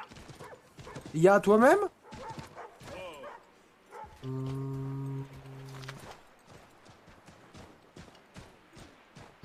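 Horse in the video game Assassin's Creed III, sharp hoof clip-clops repeating near and loud through the second half alongside game sounds, with someone talking over it.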